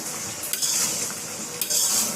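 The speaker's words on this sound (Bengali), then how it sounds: "মাংসটা একটা নাড়া দিব" A utensil stirs meat in a cooking pot with soft scraping and shuffling, two brief louder scrapes standing out over a gentle simmering hiss; no one talks.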